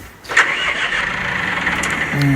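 A John Deere 5090 cab tractor's engine cranks and catches, settling into a steady mid-pitched running rumble close by, with faint voices in the background.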